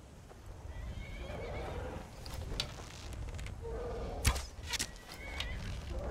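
A horse in the video game Skyrim whinnies amid hoofbeats and combat clatter, the neighs rising through the middle and a sharp thud near the end, all moderately loud over a low rumble.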